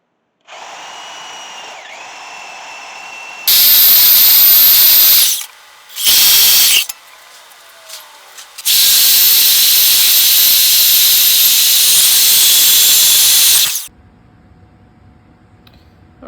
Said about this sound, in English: I'll cut that first at the bandsaw